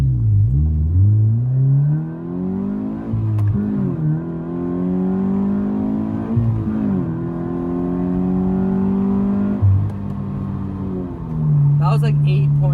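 A Subaru BRZ accelerating hard from a launch, its engine climbing in pitch through several gear changes, loud and close, with a voice speaking over it.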